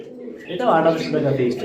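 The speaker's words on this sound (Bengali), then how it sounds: "অসংখ্য নান কবুতর আছে" Nun pigeons at a pigeon farm coo in a short, close, low burble, heard under and alongside people talking nearby.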